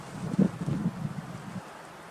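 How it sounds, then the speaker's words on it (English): Gusty wind blows across a winter campsite as a low, buffeting rumble that hits the microphone in uneven surges. It is fairly quiet and drops away near the end. "it's awfully gusty right now."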